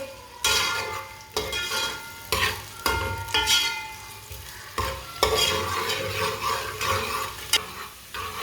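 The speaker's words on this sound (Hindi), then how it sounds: "एक बरीक कटा हुआ प्याज, प्याज को थोड़ा सा ब्राउन कर लेंगे" Finely chopped onion fries in oil until brown for an aloo palak curry, a steady sizzle repeatedly punctuated by scraping stirs and knocks of a spatula in the pan, with no one talking.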